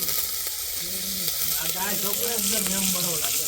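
Steady crackling sizzle of cumin, dried chilli, bay leaf and curry leaves hitting hot oil for tempering dal, with a faint voice talking softly underneath throughout.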